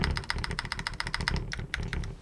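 A Bear65 mechanical keyboard, which sounds foam-filled, is typed on in a quick run of close, crisp keystrokes, ending in a few slower clacks.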